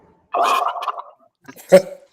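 A deliberate water burp, a gurgling, gargle-like throat sound made by a person, comes in two close bursts, the first longer and the second short and sharp.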